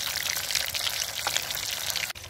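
Fish pieces frying crisp in hot oil in a pan, a steady dense crackling sizzle that runs close and even, briefly dipping near the end.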